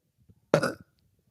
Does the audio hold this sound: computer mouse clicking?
no